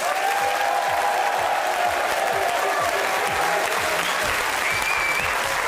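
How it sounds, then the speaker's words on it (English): A studio audience at the close of a televised 2005 entertainment quiz breaks into sustained, dense applause, steady and loud throughout with a few faint whistles and voices mixed in. "Give yourself a huge round of applause"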